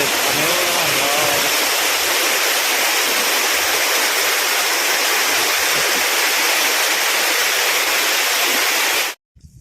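A waterfall at Tanwat in Nuapada district roars as a loud, steady rush of falling water, close and unbroken, cutting off abruptly at the very end.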